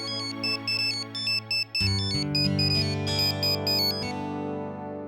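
A mobile phone ringtone plays loudly and alone, a bright repeating electronic melody over sustained tones, ringing for a call from home.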